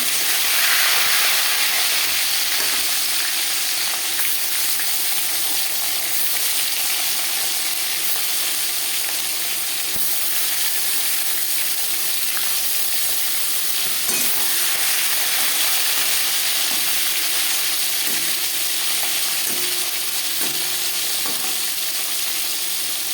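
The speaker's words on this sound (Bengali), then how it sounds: "এবার দিয়ে দেবো ম্যারিনেট করে রাখা মাছ।" Marinated fish sizzles steadily in hot refined oil in a pan, with a loud continuous frying hiss and crackle throughout, alone and without talk.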